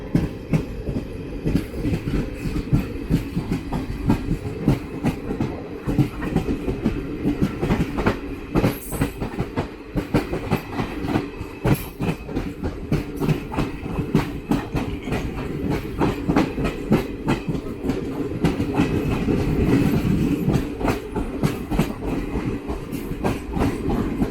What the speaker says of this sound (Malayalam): ട്രെയിന് മയിലാടുതുറൈ സേലം എക്സ്പ്രസ് ആണ്.